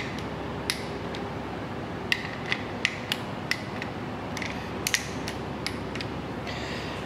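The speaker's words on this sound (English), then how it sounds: "With our torque wrench loaded to 10 foot-pounds, we can go ahead and tighten them." A torque wrench set to 10 foot-pounds tightens timing cover bolts on a Ford 302 small block engine, giving close creaking ratchet clicks at an irregular pace over a steady faint background, with no voices.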